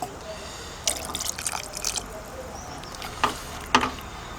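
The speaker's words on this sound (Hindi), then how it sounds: "थोड़ा सा मुझे लग रहा है कि पानी और डलेगा इसमें।" Water poured into a pot of mutton curry, a few splashing, trickling pours in short bursts against a quiet background.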